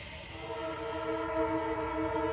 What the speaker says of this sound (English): Ooh, gotta love that train.